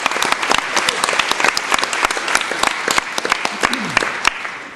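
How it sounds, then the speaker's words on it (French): A theatre audience in a hall bursts into loud, sustained applause for amateur actors after a comedy show, with bright, dense clapping and a brief cheer or whistle near the end. "On les applaudit."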